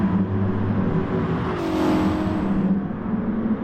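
Front-engine, front-wheel-drive racing car in GT Sport heading into the carousel, its engine droning close and loud, with pitch rising and then easing back.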